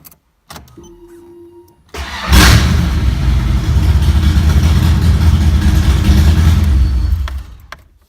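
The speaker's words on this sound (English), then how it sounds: "make sure it starts and the starter disengages from the flywheel after it starts" A Foxbody Mustang engine with a new starter and one header disconnected cranks briefly, then catches and roars loudly into a steady, rumbling run before shutting off near the end, with no talking.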